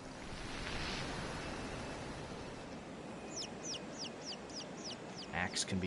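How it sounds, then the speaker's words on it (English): Chicken clucking in the video game The Serpent Rogue, a few short clucks in the second half over a steady wash of surf-like ambience. "Chicken."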